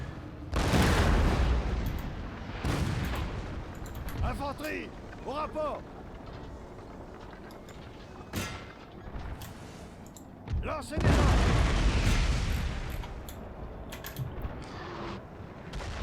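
Musket volleys and artillery booms in Napoleon: Total War, with several heavy loud blasts and crackling fire spread across the battle, while someone talks between shots.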